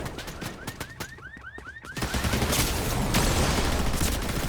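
Fortnite gunfire cracks out in quick repeated shots with whistling ricochet-like tones, then gives way to a dense, loud burst of continuous noise.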